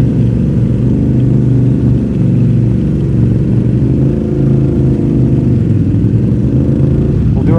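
An off-road vehicle engine revs hard under throttle while riding out of a muddy trail trap, a loud, steady, close roar that holds without a break.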